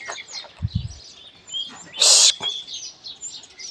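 Chicks chirp in short, high, scattered calls while pecking at soil in a cattle shed, with a brief louder rustle partway through and a low thump near the start.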